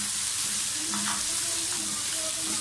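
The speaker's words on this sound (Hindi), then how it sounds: "अब आप इसमें ये हरी मिर्च डाल दें।" Green chillies hit hot oil with onion, ginger and garlic for a chana pulao, giving a steady loud sizzle with a few stirring scrapes and no talk.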